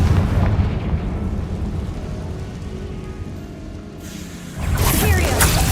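Confringo spell explosion in the video game Hogwarts Legacy, heard as a loud crackling burst near the end after a sustained rumbling, rain-like roar of game noise.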